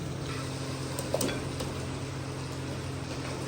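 Chicken pieces added to fried masala in a pot for chicken korma give a soft, steady sizzle, with a few brief scrapes and clinks of stirring near the middle and no voices.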